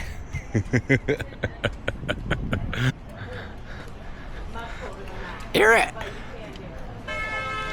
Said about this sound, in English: Can't be honking like that in a town like this, pal.